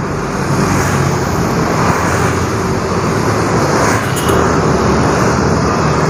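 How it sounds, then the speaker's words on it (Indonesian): A Sinar Jaya bus in airport livery passing on a road, a loud, steady broadband roar of engine and tyres mixed with surrounding traffic, with no talking. "Terpantau kembali ada bus Sinar Jaya dengan livery bandara single class jurusan Bogor 18RB"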